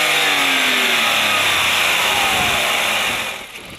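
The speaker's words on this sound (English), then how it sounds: "We took a closer look at the new 3-cylinder engine." A car with a new three-cylinder engine drives on the road, giving a steady, fairly loud engine drone with road and wind noise that eases off toward the end.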